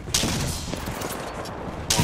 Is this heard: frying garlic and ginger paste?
no